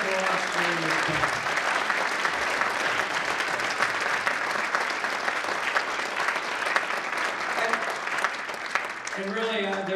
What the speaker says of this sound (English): how about a round of applause for all of you who have been there for us during this time